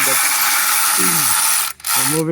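A ratchet clicks loudly and close while removing intake manifold bolts on a 1999 BMW 528i, dense rapid pawl clicking with a short pause before resuming, and someone speaks over it.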